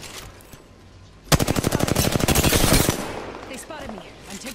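Gunfire in Apex Legends: after quiet background, a loud close burst of rapid automatic fire, roughly twenty shots in quick succession, then trailing off into softer scattered sounds.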